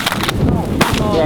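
Shotgun blasts during an early-season goose hunt, two sharp reports about half a second apart, loud and close, ringing out over outdoor noise with voices faintly present.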